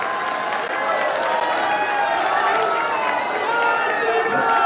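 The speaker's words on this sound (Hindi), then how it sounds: "एक बार जोरदार तालियां बजा के सब स्वागत करिए" A large rally crowd in Haldwani bursts into sustained applause to welcome a speaker, a dense, steady wash of clapping that holds at an even level throughout.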